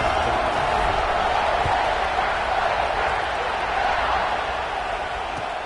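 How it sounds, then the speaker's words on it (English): A football stadium crowd keeps up a steady, dense roar right after a touchdown score, the broad wash of voices staying loud and even throughout with no single voice standing out. "this crowd is buzzing after that last score"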